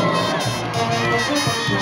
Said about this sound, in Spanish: ¡Ese aplauso del público!